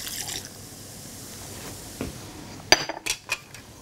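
A spoon stirs a pot of Flemish carbonade simmering in dark Belgian beer, producing soft scraping and a few clinks of metal against the pot, quiet and close, mostly toward the end.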